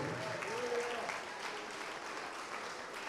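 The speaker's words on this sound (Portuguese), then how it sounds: "Vamos aplaudir mais ao nome de Jesus." Church congregation applauding at a worship service, a steady, fairly faint wash of clapping lasting about three seconds, with a voice briefly audible over it.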